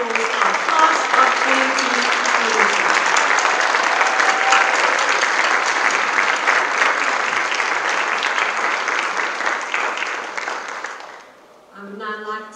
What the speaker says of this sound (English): One more round of applause for our class of